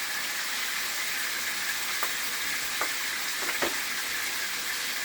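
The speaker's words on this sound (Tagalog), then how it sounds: "Pero pag naririnig mo pa yung tilansik ng mantika," Silver bass fish frying in oil, a dense steady hiss of splattering fat with a few faint pops and clicks scattered over it, close and without talk.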